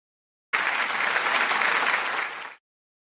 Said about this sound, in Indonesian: Beri tepuk tangan dulu dong buat temannya.